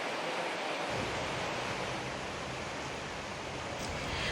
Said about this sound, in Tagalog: ngayong araw nakararanas pa rin ng malakas na hangin at ulan na bunsod ng bagyong Christine